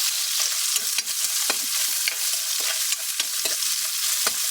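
Onions sizzle loudly in hot oil for an adobong pusit sa gata, a steady bright frying hiss broken by repeated scraping stir strokes, with no talking.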